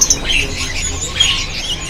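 Lovebirds at a bird market chirp in short, scattered bursts, a few sharp tweets rising over a busy background murmur.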